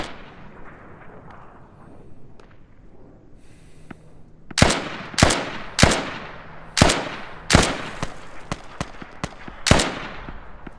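Gunfire in the military shooter game Squad: after a murky ambient stretch, seven loud, sharp shots crack out at irregular intervals, each with a short booming tail.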